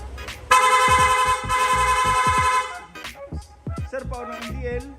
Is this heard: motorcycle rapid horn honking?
yes